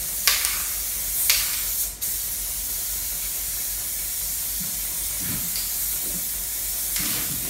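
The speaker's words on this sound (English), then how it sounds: "Just go ahead and spray the adhesive on here." Spray adhesive hisses from an aerosol can onto an upholstered fur bench, several short bursts and longer sustained sprays with brief pauses, close and fairly loud.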